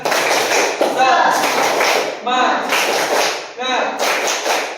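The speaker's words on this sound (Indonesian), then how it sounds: "Kita tepuk semangat dulu." Schoolchildren in an Indonesian classroom perform a rhythmic clapping chant, with bursts of loud, close hand claps in a steady pattern and shouted group voices blending over the claps.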